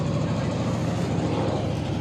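A trawler boat's engine idles at a riverbank, a constant low, rough rumble with no change in pace, close and fairly loud.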